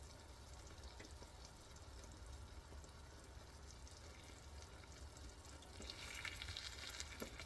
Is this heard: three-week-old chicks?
no